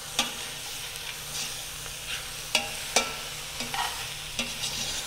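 Boneless chicken thighs sizzle steadily in a hot frying pan, with scattered scrapes and clacks as the pieces are tossed around, close and fairly loud with no talking.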